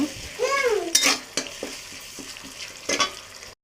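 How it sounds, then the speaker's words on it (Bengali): Onions frying in a pan for a Bengali tangra and baim fish curry, with stirring scrapes and clinks of a utensil against the pan over a steady sizzle, plus a couple of louder bright clatters. "এই পেঁয়াজকে কিছুক্ষণ ভেজে নেব"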